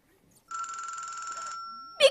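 A pink payphone rings with one continuous, rapid electric bell trill lasting about a second. A voice cuts in right after it.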